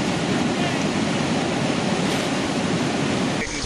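Whitewater rapids roar continuously on the New River at the Lower Keeney drop in the New River Gorge, a dense, steady rushing of big waves heard up close, with no talk.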